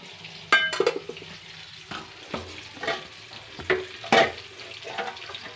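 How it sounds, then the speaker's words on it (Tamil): Fish frying on low heat in a pan, a soft steady sizzle broken by several clanks and scrapes of a spatula against metal, close and moderately loud, with no voices. "சிம்மில் மீன் பொரிஞ்சிட்ருக்கு."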